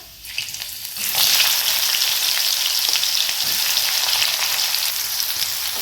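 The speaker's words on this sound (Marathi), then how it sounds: "हा कांदा पण असा छान भाजून घ्यायचा आहे आपल्याला" Sliced onions hit hot oil with browned garlic in a pan, and a loud, close sizzle swells up after about a second, then holds steady and dense to the end.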